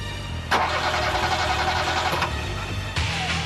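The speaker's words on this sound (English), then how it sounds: "Starved of oxygen, the vehicle's engines splutter and die." Car engine in a smoke-filled Alpine road tunnel during a fire, starving of oxygen: a sharp crank into a rough, close running rumble that cuts out near the end, then another abrupt spluttering burst.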